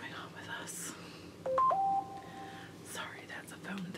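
A short electronic phone notification tone of a few rising beeps, brief and moderately clear, heard over quiet room background between stretches of soft talk.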